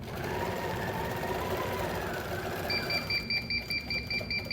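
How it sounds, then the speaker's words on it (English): A quilting sewing machine's proximity warning sounds as rapid, evenly repeating high beeps that start partway through, over the machine's running hum and motor noise. "as I get closer, hopefully you will hear that beeping noise"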